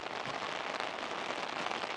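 Steady rain patters on a desert ranch and an umbrella overhead, a close, dense hiss of drops with small crackling impacts throughout.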